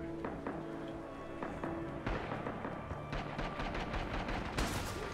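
Rapid gunfire from the World War II shooter game Rising Storm, with dense bursts of sharp shots and machine-gun fire crackling at close range, growing heavier toward the end, with no talking.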